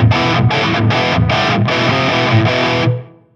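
Heavily distorted electric guitar through a Bogner Uberschall cabinet impulse, miked with a 57 off the cone center, playing chugging palm-muted chords in a steady rhythm before ringing out and fading.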